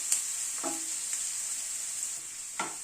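Chopped onions frying lightly in a pan, a faint continuous sizzle with a few soft stirring scrapes at irregular moments, no talking.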